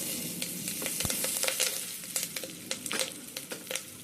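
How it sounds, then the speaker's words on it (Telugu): Pachipulusu ingredients frying in a pan while being stirred, a steady close sizzle broken by scraping strokes and clinks of the spoon, with no talking. "కొంచెం ఫ్రై అవ్వాలి."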